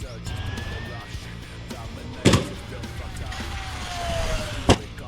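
A Traxxas Sledge RC truck whines past at full throttle, its motor rising and falling in pitch across two passes, with sharp thumps of landings or impacts and a voice over it.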